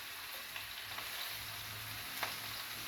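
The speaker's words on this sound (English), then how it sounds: "And we're just trying to sear each side." Stuffed chicken breast searing in a pan over medium heat, a steady close hiss of sizzling fat with faint crackles, heard alone.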